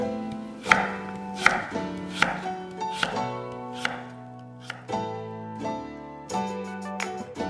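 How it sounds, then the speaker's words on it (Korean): A knife chops sweet potato on a cutting board, a steady series of sharp close thuds roughly one every second, with ringing tonal sounds continuing underneath. "고구마 250g을 4등분해서 1cm 두께로 썰었다"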